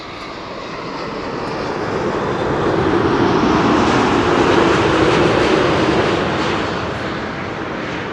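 An Air Canada Boeing 787-8 Dreamliner arriving at Schiphol from Toronto gives a broad, steady jet roar that swells toward the middle and eases slightly at the end, with no voices.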